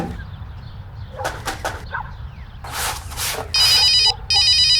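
A telephone rings near the end with two bursts of electronic trilling bell, loud and close, preceded by faint scattered clicks and ambient room noise, no speech.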